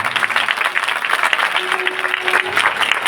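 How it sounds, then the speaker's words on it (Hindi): A church conference crowd in Punjab claps for Jesus in worship: steady, dense applause from many hands, loud and close, continuing without a break for the whole stretch. "यीशु के लिए जोरदार ताली"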